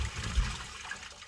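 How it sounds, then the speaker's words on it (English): A toilet flush sounds close by through a concrete sewer pipe, a burst of rushing water followed by a gurgling, trickling drain that fades over about a second. "someone just did a toilet flush right next to my face here"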